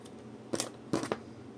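Scissors snip through cord for a handmade bag in a few quick, close cuts: one short snip followed by a pair of closer snips.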